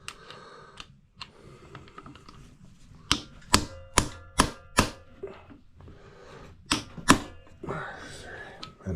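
An impact screwdriver struck to loosen screws on a Yamaha XS650 motorcycle engine during a bottom end teardown, a series of sharp metallic blows in quick bursts, close, with someone talking in between.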